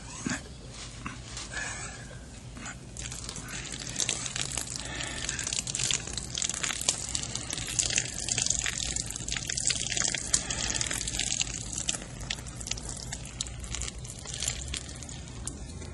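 Soup pours slowly and steadily from a can in a radio drama, a continuous wet trickling and splashing that stays fairly loud and even across the whole stretch, with no voices over it.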